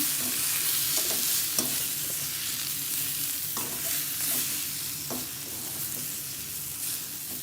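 Cashew chicken fry mixture is stirred in a pan, with a steady sizzle and frying hiss under repeated soft scraping strokes of the spoon at irregular intervals, close and moderately loud with no talking.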